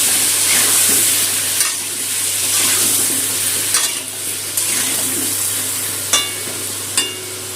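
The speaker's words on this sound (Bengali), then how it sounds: "নুন হলুদটা আলুর সাথে মিশিয়ে দিয়ে আলুটা ভেজে নেবো" Potatoes with salt and turmeric sizzle steadily in a pan up close, with scattered scraping clicks of stirring over a continuous frying hiss.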